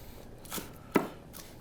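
Green onions being chopped into small pieces for garnish on a cutting board, with a few quiet knife strokes and one sharp, close chop standing out near the middle.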